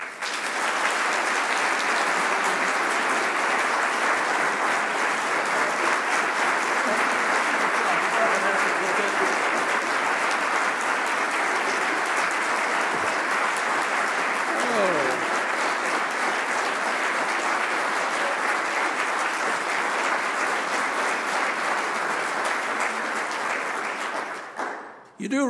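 A congregation gives sustained, dense applause welcoming back its minister emeritus at a Sunday sermon service, a broad wash of many hands lasting over twenty seconds before tapering off abruptly at the end.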